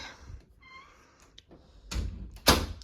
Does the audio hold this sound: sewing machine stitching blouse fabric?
no